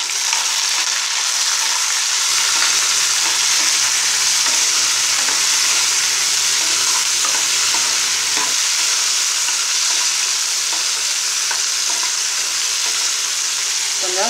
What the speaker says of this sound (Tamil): இப்போ இந்த சுண்ட வத்தலை போட்டு இந்த எண்ணெயிலேயே ஃப்ரை பண்ணிக்கிறேன்.